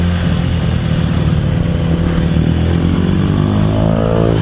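Motorcycle engines rumble loudly and continuously at a beachside bike night, a thick low idle with one bike's revs rising toward the end, no talking heard.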